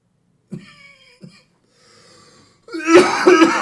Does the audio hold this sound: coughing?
yes